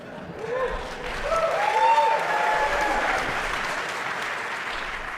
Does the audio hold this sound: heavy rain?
no